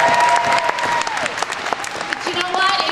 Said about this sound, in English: Give Riley a big round of applause.